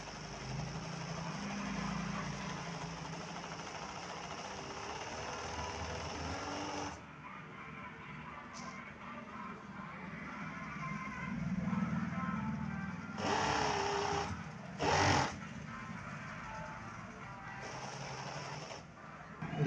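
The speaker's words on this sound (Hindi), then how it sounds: "ओवरलॉक जो कर रही है मशीन, ये ठीक तरीके से कर रही है या नहीं कर रही" An overlock sewing machine stitches fabric after cleaning and threading, giving a steady whirring run for about seven seconds, then quieter stretches broken by a few short bursts of stitching.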